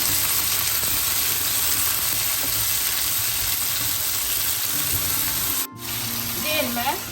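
Tomatoes and chickpeas sauté in a pan for a yam curry, giving a steady, loud broadband sizzle and hiss that runs almost the whole time, with a brief dropout near the end followed by some faint clatter.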